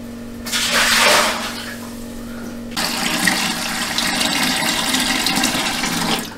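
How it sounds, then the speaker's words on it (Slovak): Tap water running into a Lidl canning pot for home beer brewing, a brief loud gush followed by a steady pouring rush that fills the pot for several seconds before stopping. "Tu máme ďalšie významné vylepšenie, a to zavarací hrniec z Lidla. Ten si napustíme vodou."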